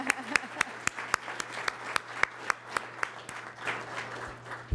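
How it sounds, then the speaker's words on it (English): Sparse applause at an award ceremony: a few distinct, evenly spaced claps ring out over a low steady hum, with no cheering. "I just really want to give them a round of applause"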